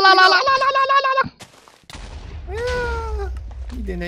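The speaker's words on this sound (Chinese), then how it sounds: "猫咪。" In the video game Minecraft, a cat meows twice, loud and close, a sharp first call followed by a longer drawn-out one after a short gap of clicks and game noise.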